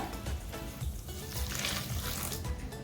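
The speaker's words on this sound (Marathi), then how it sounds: "आता आपण त्याच्यात कोमट पाणी ओतूया" Lukewarm water pours steadily into a bowl of cut broccoli close by, a continuous splashing gush that holds the same level for a few seconds.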